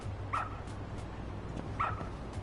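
A dog barks twice in the video game Lost Judgment, two short yips spaced about a second and a half apart over a steady low background hum, fairly close and moderately loud.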